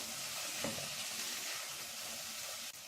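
Lentils, carrots and potatoes sizzle steadily in a hot pot while being stirred for lentil soup, a continuous close frying hiss with soft scraping movements and one light knock near the end.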